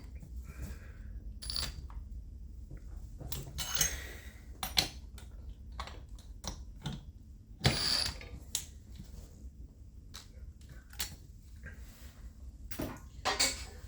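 Bolts being tightened during reassembly of an Echo CS-550P chainsaw: scattered sharp metallic clicks and taps close by over a low steady background hum, with quiet gaps between and no speech.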